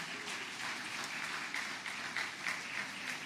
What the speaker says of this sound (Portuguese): Eu queria que você louvasse a Deus com as suas palmas